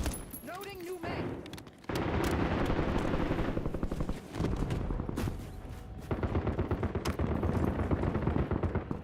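Rapid automatic gunfire bursts in The Guest video game, loud and dense with sustained rattling volleys and a brief pause, while a voice talks over the shooting.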